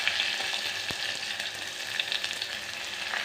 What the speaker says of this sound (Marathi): जिरं आणि कांदा आणि टोमॅटो। कांदा टाकून घेते